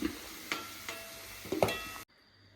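Cauliflower florets frying in hot oil for gobi manchurian, a soft steady sizzle with scattered ticks and pops from a stirring spoon, cutting off abruptly near the end.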